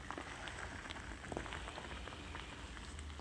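A soft, steady bubbling and popping of a vegan self-heating Chinese hot pot broth simmering, with faint crackles over a constant low hiss.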